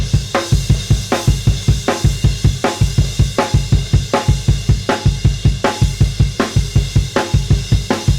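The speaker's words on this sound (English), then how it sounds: "smashing away on a crash cymbal with the bass drum doing that" A driving drum groove with a crashing cymbal on steady beats and a punchy bass drum underneath, loud and close, no voices.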